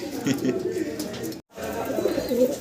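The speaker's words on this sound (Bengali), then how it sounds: "খুব সুন্দর ডাকাডাকি করতেছে চমৎকার এক জোড়া কি কবুতর" A pair of native Rajgolla pigeons coo close by in low, rolling, repeated calls with a brief gap midway, and some talking is heard alongside.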